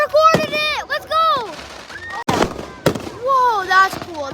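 Fireworks explode outdoors in several sharp, loud bursts at irregular intervals, mixed with excited voices and exclamations from nearby onlookers.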